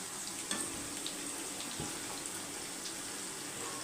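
Soya chunks (meal maker) deep-frying in hot oil give a steady, dense bubbling sizzle throughout, with a few soft clinks near the start and no talking.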